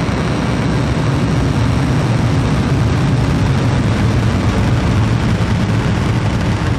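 A SpaceX Falcon rocket lifts off with a continuous, loud, broadband rumbling roar that stays heavy and unbroken from start to finish.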